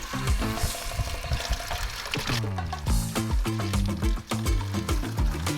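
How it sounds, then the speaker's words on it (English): Water runs from a 5/8-inch gray Zero G garden hose into a 5-gallon bucket, a steady gurgling fill with the pitch rising as the water level climbs, heard close and without talking. "see how long it takes to fill up the 5-gallon bucket"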